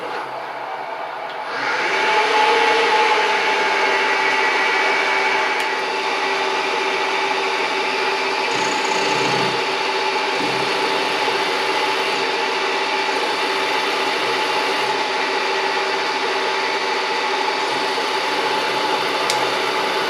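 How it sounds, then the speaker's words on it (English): A lathe-mounted milling setup cuts a 7/16 flat on a ball turner part, a steady loud whirring grind starting after a short quiet moment and running continuously without any talk. "Got our flat milled."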